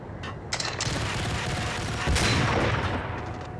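Sniper rifle shots ring out in the Max Payne action game, a few sharp cracks and a louder blast with rumbling echo, amid ongoing game noise and no speech.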